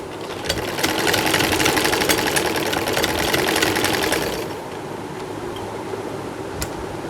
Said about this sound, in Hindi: इसको इसी तरह से बराबर से जोड़ा और इसकी सिलाई कर दी।